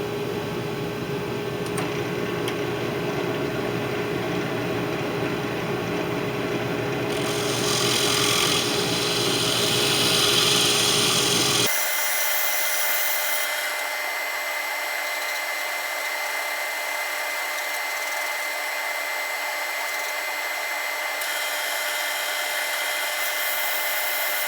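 Coarse 40-grit sandpaper works the inside of a small wooden bowl spinning on a lathe, a steady loud whirring scratch that continues throughout, changing character partway as the motor tone shifts, with no talking.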